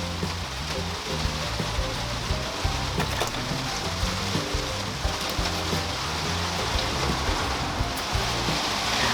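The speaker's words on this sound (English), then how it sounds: "I knew that this rain was coming. I'm glad to be in the greenhouse, but I'm sorry it's so noisy." Steady rain drums on a greenhouse roof, a dense, continuous patter with scattered louder drops, close and enveloping throughout with no voices.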